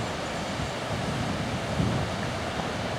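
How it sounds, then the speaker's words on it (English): Steady broadband rush of water gushing over a weir below a gorge in the Hope Valley near Bamford, a continuous, fairly loud wash with no voices. "down below, gurgling or gushing, is the weir"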